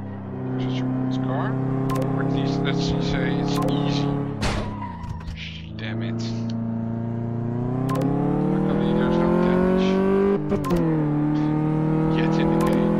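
Steady engine drone with rising revs from a car driven on a factory test track in Car Mechanic Simulator 2015, continuous and close, with a brief tire skid around the middle and talk over the top.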